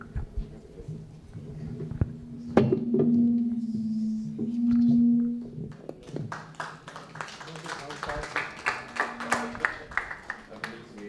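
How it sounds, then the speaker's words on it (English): A small seminar audience applauds as guests are called up to the stage: after a few seconds of a sustained tone and scattered thumps, sparse, uneven hand claps break out and patter on to the end. "Give them a big round of applause, please."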